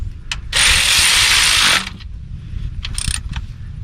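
A ratchet snugs down the starter bolts on a 2005-2009 Chevy Equinox with a 3.4L V6, one loud, continuous clicking burst lasting about a second, then a few brief, lighter ratchet clicks after a pause.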